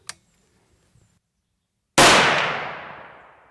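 A single loud, close rifle shot from a .350 deer-hunting caliber cracks after a quiet pause, its sharp report trailing off into a long echoing decay.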